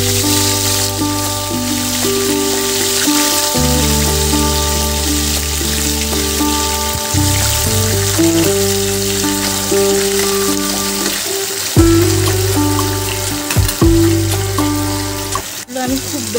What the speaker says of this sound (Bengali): এবার আমি মাছগুলোকে ভেজে নেব